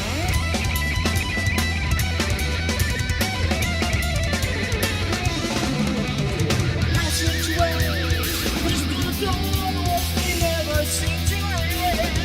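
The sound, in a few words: bass drums in a song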